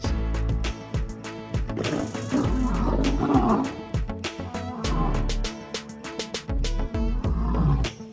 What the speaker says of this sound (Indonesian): Ini singa.